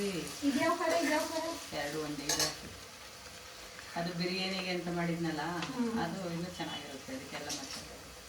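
Mushrooms frying for a mushroom biryani in a home kitchen, with a soft sizzle, stirring and occasional utensil clinks under steady conversation from several people.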